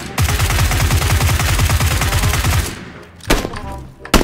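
Rapid automatic gunfire in PUBG, a loud, dense burst of shots lasting over two seconds, then a pause and a few more sharp shots near the end.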